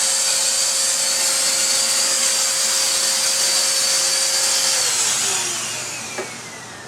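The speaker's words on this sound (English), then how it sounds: "you can also vacuum the filters" A vacuum cleaner cleaning the filters of a Lifebreath heat recovery ventilator roars with a steady hiss and whine, then the pitch sinks as the motor winds down near the end, ending with a small knock.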